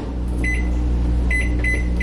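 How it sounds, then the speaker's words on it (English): A microwave oven hums steadily while heating a mug of milk, a constant low drone with a few soft high tones and clicks flickering over it near the end. "I don't have a tea kettle. I need to get one, so I just put it in the microwave."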